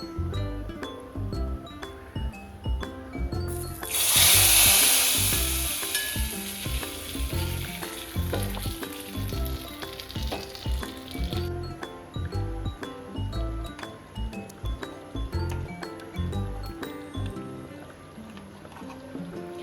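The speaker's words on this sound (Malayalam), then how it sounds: "അതിലേക്ക് നമ്മൾ ഈ താളിപ്പ് ചേർക്കാം" Hot tempering is poured into boiling onion sambar, setting off a loud, sharp sizzle that flares briefly and then settles into a steady bubbling fry with faint clinks of a utensil.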